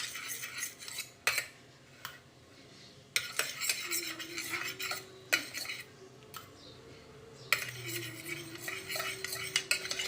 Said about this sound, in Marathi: इडली पात्र घेतलेलं आहे, याला आपण सुरुवातीला तेल लावून घ्यायचं